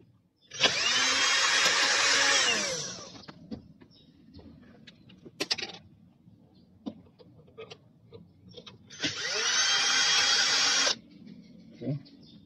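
A power drill backs screws out of a stock car head unit in an Isuzu MU-X or D-Max, giving two loud whining bursts that rise and fall. Small clicks and tool handling fill the gap between them.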